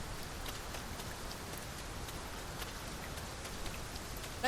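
Steady rain falls in the fantasy world of the video game Dragon's Dogma 2, a dense, even hiss of drops on surfaces holding constant for several seconds without talk.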